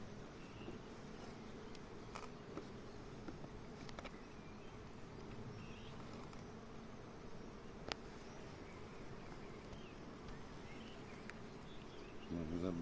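Honey bees at a migratory apiary among acacia in a valley setting buzz as a steady, moderately faint outdoor drone with occasional louder passes near the listener.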